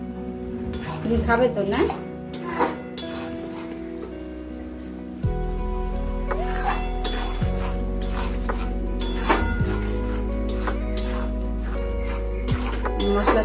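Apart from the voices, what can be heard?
stirring hilsa fish head with mung dal and spices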